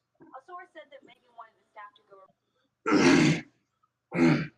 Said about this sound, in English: hold on, let me gotta clear my throat